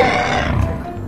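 A deep, growling roar from a toy dinosaur rumbles steadily for about a second, loud and close.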